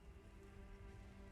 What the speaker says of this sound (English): the sound of that drizzling rain sort of dripping against the stone.